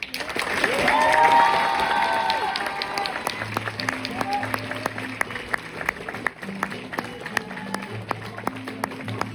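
A public-speaking contest audience applauds, with a swell of clapping and cheering early that thins into scattered claps while a low tone sounds in the background.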